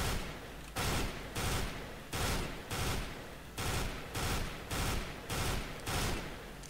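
FAMAS rifle fired in bursts at long range in a video game: nine evenly spaced short bursts of rapid shots, sharp and fairly loud, with brief gaps between them.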